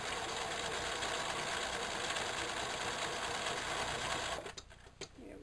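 A sewing machine runs continuously and fairly close while back stitching a beach towel, its motor whirring at steady speed for about four seconds before stopping and leaving a few soft handling clicks.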